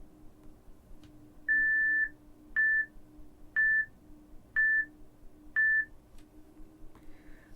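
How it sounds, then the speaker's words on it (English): Five evenly spaced, identical electronic latency-calibration beeps from the Stagelight recording app, clean and steady against a faint hum, one per second. "just wait for a few beeps to play"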